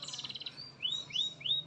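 Bird calls played from a phone to a magpie robin, heard as a quick trilled chirp followed by three rising whistled notes, fairly faint.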